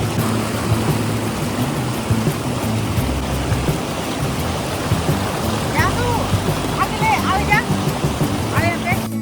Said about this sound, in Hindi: पहाड़ों से आता हुआ ये दूध जैसा सफेद पानी कितनी तेज रफ्तार से बह रहा है